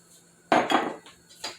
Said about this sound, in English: Can't forget about the broccoli. Just going to pour it right on over in there.